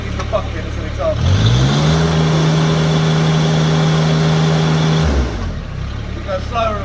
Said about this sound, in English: if you adjust the revs of the tractor a tiny bit